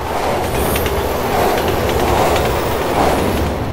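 A train rumbles past in Resident Evil 6, a loud, steady, close roar of wheels and carriages with faint rhythmic clatter, no talking.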